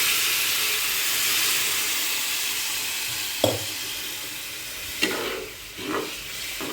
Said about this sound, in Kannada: ನಾನು 3 ಗ್ಲಾಸಷ್ಟು ನೀರನ್ನು ಹಾಕಿದ್ದೀನಿ